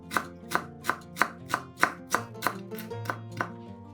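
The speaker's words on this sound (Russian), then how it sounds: "Нарезаем пучок укропа." A knife chopping a bunch of fresh dill on a board, about ten crisp, evenly spaced cuts in a quick steady rhythm, close and clear with no talk.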